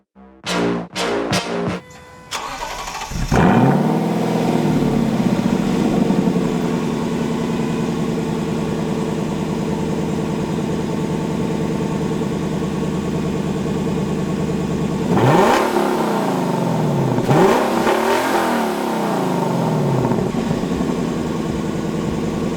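A Lexus LC 500 convertible sports car engine starts with a few sharp cranks, then settles into a loud steady idle with a couple of deep throttle revs rising and falling.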